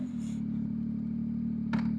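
A 2024 Yamaha XSR900 motorcycle idles steadily right after an ECU flash, a close, even engine hum with a brief extra burst near the end.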